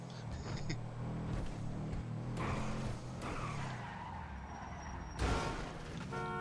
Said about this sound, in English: When I pull up in front of you to steal your car, you're not supposed to ram me